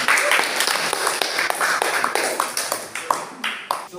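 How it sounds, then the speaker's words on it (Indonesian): A class of students applauds together, a dense stretch of many hands clapping that stays steady and fairly loud for about four seconds, with scattered sharper individual claps poking through. "Beri tepuk tangan."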